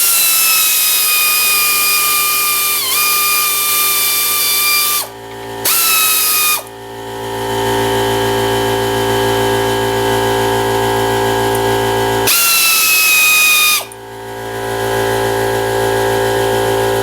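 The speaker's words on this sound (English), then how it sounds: "I'm going to take the air tool, zip this the rest of the way off." A pneumatic air tool zips a nut off a 2003-2007 Honda Accord upper control arm, giving a loud, steady high-pitched whine with two short pauses and restarts.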